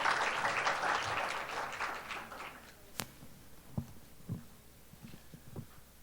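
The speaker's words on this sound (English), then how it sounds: "Ladies and gentlemen, please welcome him with a big round of applause." A conference audience applauds at the opening ceremony of the World Journalists Conference 2015 in Korea. A dense burst of clapping fades over a few seconds into scattered single claps.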